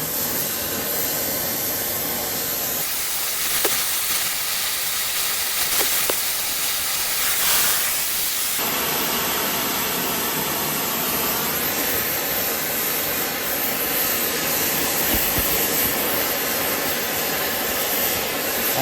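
A torch flame roars in a steady, loud, close hiss as it wraps around and heats a metal part, continuous for the whole stretch with no talk.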